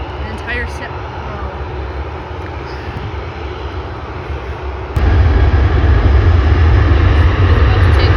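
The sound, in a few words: airplane engines at Vancouver International Airport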